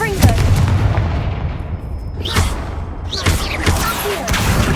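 In Hogwarts Legacy, the Confringo fire spell goes off in a series of booming blasts and crackling impacts amid ongoing combat, each hit loud and close, with sweeping whooshes between them.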